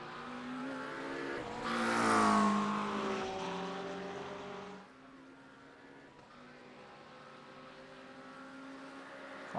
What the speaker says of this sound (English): Flying down the straight once again towards the starting line.